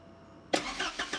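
A Porsche 944 fuel pump kicks on after being struck, giving a sudden loud mechanical onset followed by three rhythmic pulsing surges of whirring noise, close by and without talk.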